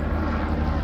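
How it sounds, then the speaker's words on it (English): Helicopter passing over a backyard, a steady low engine and rotor drone that stays fairly loud and unbroken throughout. "can't make sure helicopters don't fly over when you're taking a video in your backyard"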